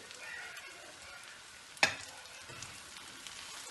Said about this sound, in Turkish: Ve şimdi kavurmaya tekrar devam ediyorum.